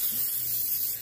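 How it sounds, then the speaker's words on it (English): Cooking spray hisses onto a baking pan in one short, steady burst, close by, with no talking over it. "we're gonna spray our pan a little bit."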